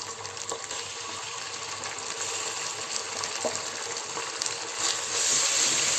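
Ginger garlic paste fries in hot oil for mutton yakhni pulao, a steady close sizzle with soft stirring scrapes that grows slightly louder near the end.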